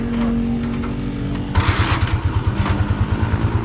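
A motorcycle fitted with a new front tire starts up. After a steady engine drone, a sharper, louder burst comes in, then settles into a rapid, throbbing idle that sounds close by.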